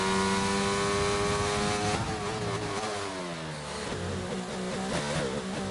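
Formula 1 race car engine in the F1 22 video game at Silverstone, a loud high-pitched whine revving up and dropping through a couple of quick upshifts, then climbing again, continuous and close.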